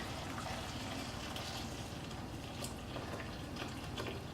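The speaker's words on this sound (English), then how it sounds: "I'm gonna take this water, which is just boiled, pour it on top" Just-boiled water poured from a kettle into a bowl over salmon fillets, a steady continuous splashing pour at close range with no talk.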